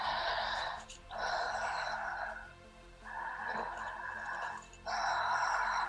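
Deep open-mouthed breathing, each inhale as long as the exhale with no pause between them, flowing in a steady continuous cycle, close and soft.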